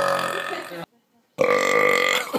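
Two long, loud, guttural burps separated by a brief silence, each drawn out and close to the mic.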